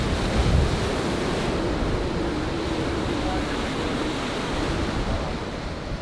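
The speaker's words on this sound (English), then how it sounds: "There isn't a whole better feeling than hearing the ocean right behind you" Ocean surf on a Honolulu beach, a continuous loud roar of breaking waves with wind buffeting the microphone and no pauses.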